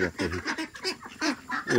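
Ducks feeding on paddy grain, giving a quick run of loud, nasal honking quacks in short bursts from close by.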